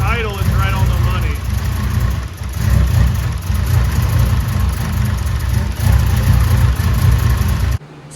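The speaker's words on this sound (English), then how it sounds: "That idle is right on the money." A Honda S2000 engine idles steadily up close, a loud even low rumble throughout, with a voice talking over it until it cuts off near the end.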